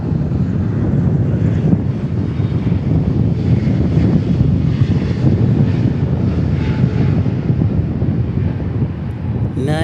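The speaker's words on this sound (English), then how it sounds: "And there is our 777. Let's see how it handles the wind today." Boeing 777 landing in gusty wind at Dallas/Fort Worth airport, a steady loud roar of jet engines mixed with heavy wind buffeting on the microphone throughout, no one speaking.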